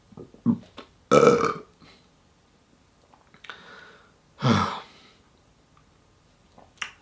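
A few loud, deep burps come in separate bursts close to the mic, with quiet pauses and soft breathing between them.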